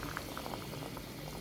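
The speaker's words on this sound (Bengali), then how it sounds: "এখন ঝোলটা ফুটিয়ে নেব।" Hilsa fish curry with taro simmers in a pot, giving off a faint, steady bubbling and soft gurgling heard up close and alone.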